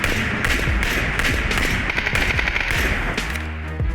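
A gun fires rapidly in the PUBG battle game, with a bullet striking a frying pan. Loud, close cracks and metallic thuds come in a fast, uneven burst, easing off just before the end.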